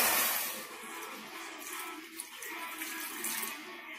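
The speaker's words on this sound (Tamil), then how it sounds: "ஒரு கடாயில் கடாய் ஹீட் ஆனதும் ஒரு கப் அளவுக்கு தண்ணீர்" A cup of water pours into a heated kadai, a steady close splashing and trickle that runs the whole time with minor surges, no voices over it.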